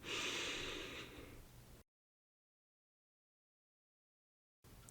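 One deep, audible breath is drawn during a guided meditation, an airy, close rush lasting under two seconds, then near silence follows.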